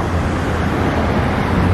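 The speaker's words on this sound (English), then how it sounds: "So many cars." A steady roar of road traffic fills the air in Mexico, a continuous rushing hum of passing vehicles close by, with no voices.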